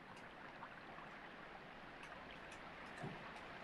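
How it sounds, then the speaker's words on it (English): Steady rushing water from a waterfall echoing inside an underground cavern, a constant broadband wash with no talk over it. "With a nice waterfall in it."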